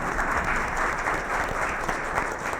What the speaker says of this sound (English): And Colleen deserves a round of applause as well.